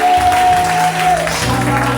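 A church congregation claps in loud, dense applause throughout, a continuous wash of many hands with a sustained tone and voices mixed in.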